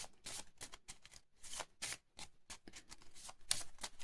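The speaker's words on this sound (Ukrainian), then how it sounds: "Далі наші карти перемішаємо" Paper playing cards are shuffled in quick, crisp riffling bursts, close up and fairly quiet, with no voices.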